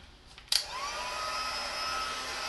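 A heat tool switches on with a click and runs at a steady, loud whooshing whir while heating a snow globe Christmas ornament, the blower holding a constant pitch for the rest of the moment.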